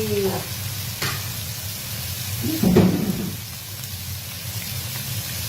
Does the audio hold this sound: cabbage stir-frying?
yes